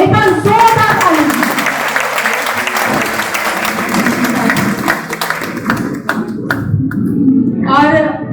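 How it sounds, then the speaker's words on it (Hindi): Loud audience applause at a Republic Day kavi sammelan, steady dense clapping filling most of the stretch, with a voice briefly over it near the end. "एक बार जोरदार ताली।"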